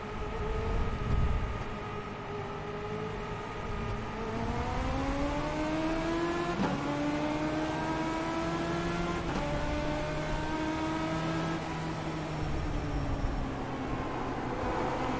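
Several race car engines roar and shift pitch together through a lap of the Bullring short oval in iRacing, an eNASCAR Ignite Series round, with steady loud droning harmonics rising and falling as the cars accelerate, no talk over them.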